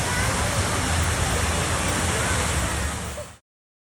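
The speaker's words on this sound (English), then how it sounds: "we saw this cool waterfall thing, and a bunch of kids were there getting wet" A waterfall fountain on Michigan Avenue in Chicago on a hot day gives a steady, full rush of splashing water that runs without a break before cutting off abruptly, with faint voices mixed in.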